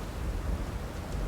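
Stormy weather in the video game South of Midnight, a steady low rumble of thunder and rain that holds at a constant level for the whole moment, with no voices.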